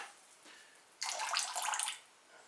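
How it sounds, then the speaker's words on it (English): Liquid ceramic glaze is poured inside pottery pieces in a quiet workshop, making a short, soft, splashy pour that lasts about a second. "So, right, so I'm just going to pour. These are just glazing at the moment on the inside of these."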